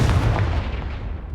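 A Confringo blasting spell explodes in Hogwarts Legacy, a single loud, heavy boom with deep rumbling low end that rolls and decays over a second or so, with no talking.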